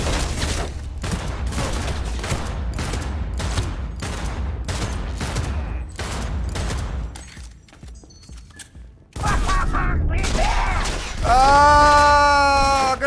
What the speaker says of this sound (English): Another grenade!